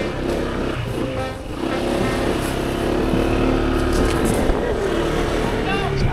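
A motorcycle engine runs steadily and fairly loud, close by, with people chatting over it throughout.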